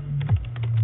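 A short burst of typing on a computer keyboard, a few quick key clicks close by over a steady low hum.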